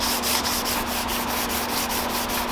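Rapid, rhythmic back-and-forth strokes of sandpaper rubbing a 4-speed gear shifter, about five strokes per second, loud and close with a steady hum beneath.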